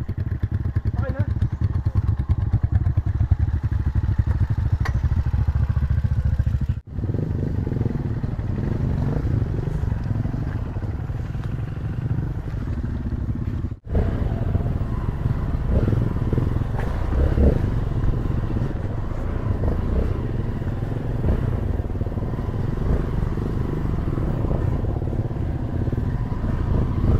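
A motorcycle labors through deep mud on a rough rural road, its engine droning steadily and close with thuds and clatter, while people talk over it, with two brief dropouts.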